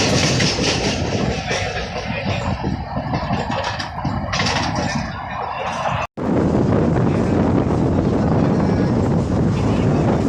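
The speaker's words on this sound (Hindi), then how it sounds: "तो हमारी ट्रेन सारवाड़ी रेलवे स्टेशन को भी स्किप करके निकल गई" Train running past a railway station on the Parbhani–Jalna line, a continuous loud rush of rolling and wind noise with a brief dropout midway, then the roar resumes just as strong.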